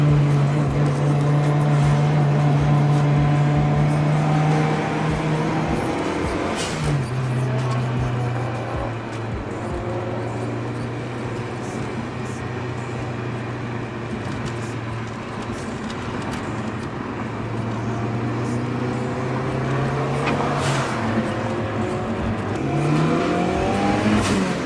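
A Toyota Chaser, a rare JDM car, accelerates through several gears from inside the cabin, its engine note rising steadily, dropping at each shift and climbing again, loud and continuous with no talk.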